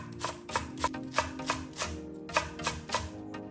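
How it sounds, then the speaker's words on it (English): Knife chopping half an onion and slicing chives on a cutting board, about a dozen crisp, evenly spaced taps up close, a short pause midway, no talking. "Finely chop half an onion. Slice a handful of chives."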